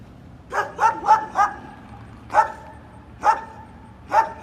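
A police K9 dog barks repeatedly in short, sharp yips, a quick cluster of four followed by spaced single barks, fairly close and loud.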